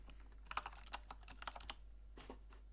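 Someone types a password on a computer keyboard, a quick cluster of light, close key clicks with brief pauses between them, all quiet over a low steady hum.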